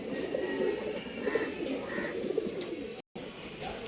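Racing pigeons for sale cooing steadily and close by, a low throaty burbling over a busy noisy background.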